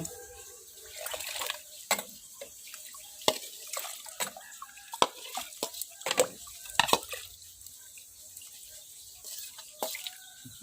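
A pot of Thai soup with lemongrass, fresh chili, tomato and fermented fish sauce bubbles on the stove, giving scattered pops and drips over a quiet background.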